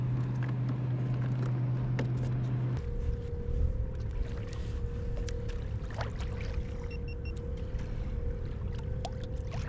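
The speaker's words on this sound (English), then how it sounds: "That's a big boat." A low engine drone from a passing boat hums steadily over lapping water, with a pitch shift early on and faint background noise throughout.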